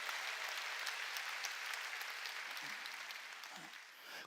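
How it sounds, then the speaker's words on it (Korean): A church congregation applauds in a dense, steady wash of clapping that fades slightly toward the end, with a brief murmur of voices underneath. "박수 치려면 세게 치라고"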